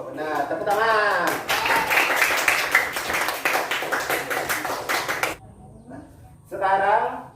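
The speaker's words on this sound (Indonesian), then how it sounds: "Tepuk tangan." A class of children claps their hands together in a burst of many overlapping, fairly loud claps for several seconds while a teacher talks over them, then it stops abruptly and speech continues alone.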